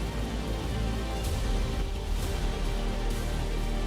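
Rain pours steadily during a windy storm in Tikamgarh, Madhya Pradesh, a dense continuous hiss with low rumbling wind noise underneath and no voices.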